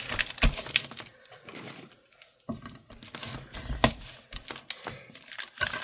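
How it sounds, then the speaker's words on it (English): A junk-mail paper envelope being folded in half by hand, with scattered crisp paper creases, rustles and taps, close and soft amid quiet gaps. "then we'll go ahead and fold the envelope in half"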